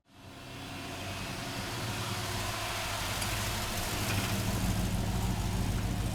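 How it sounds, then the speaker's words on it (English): A 1964 Pontiac GTO convertible with a swapped GM LS V8 engine and six-speed manual idles steadily at close range, a low, even rumble holding constant with no talk. "let's go for a ride in a 64 GTO with GTO LS power"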